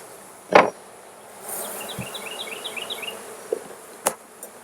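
Honey bees buzz steadily inside an open hive during an inspection, with comb built onto the lid; the low drone runs throughout under a few sharp knocks and clicks from handling the frames.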